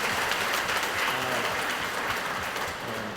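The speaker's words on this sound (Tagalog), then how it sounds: "bigyan ho natin sila lahat ng mainit na palakpak bilang ating pasasalamat po" Sustained applause from a church congregation at a Filipino Easter Sunday Mass, given in thanks for the choir; dense steady clapping fills the whole moment, fairly loud and even throughout.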